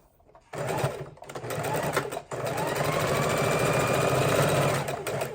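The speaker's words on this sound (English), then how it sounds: "now I'm taking this piece, folding it over, sewing on this line" Sewing machine stitching folded, pressed pieces of quilt fabric for pinwheel blocks, a steady close mechanical whir that starts after a brief pause, dips once, then runs on continuously.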